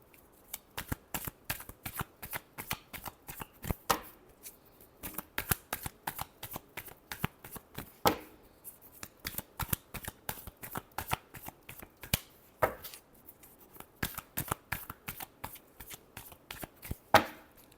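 Tarot cards shuffled by hand in a long run of quick, crisp riffling flicks, close and fairly quiet, with short pauses and a few sharper slaps between bursts, no talking.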